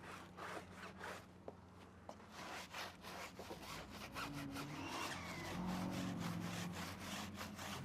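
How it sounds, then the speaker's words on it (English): A stiff brush scrubbing dirt and grime off a Cybertruck tire on a 35-inch wheel, a rapid run of quiet rasping back-and-forth strokes in a steady rhythm, close by, with a low vehicle hum underneath. "we're gonna be using our Big Blue Stiffy brush to scrub and agitate all that dirt and grime off the surface"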